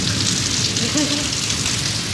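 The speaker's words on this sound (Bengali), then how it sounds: "তিন চার মাস পরে পাকিস্তানে আবার বৃষ্টি হলো" Rain pours down in Pakistan with a constant close hiss of drops striking surfaces, and a faint voice surfaces briefly partway through.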